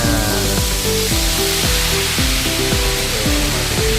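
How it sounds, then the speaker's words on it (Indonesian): Catfish pieces frying in hot oil for a Padang-style crispy dish give a loud, dense, continuous sizzle and crackle, close up, with no talk over it. "Tuh minyak sudah panas. Tuh kita goreng lelenya"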